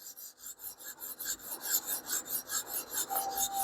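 A blade is drawn across a sharpening stone in quick, even strokes, a close rhythmic rasp repeating about five times a second with no talking.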